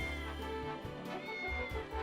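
A cat meows in the video game Triangle Strategy, a few short mewing calls over a sustained musical backdrop with soft low pulses.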